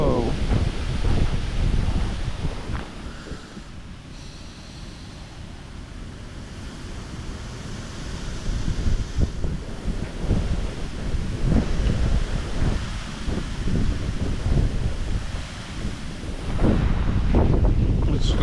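Strong wind buffets a microphone on a riverbank by the River Thames during a fishing match, a loud roaring rumble that surges and eases throughout without pause.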